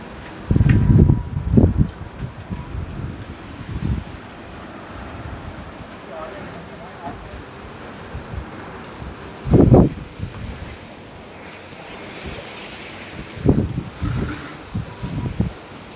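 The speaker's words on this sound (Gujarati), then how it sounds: "ફૂલ હવા ચાલુ હોય" Strong wind gusting outdoors, buffeting the microphone in several loud, rough bursts of low rumble separated by quieter stretches of steady breeze.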